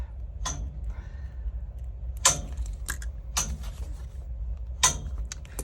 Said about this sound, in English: That clicking is my heat.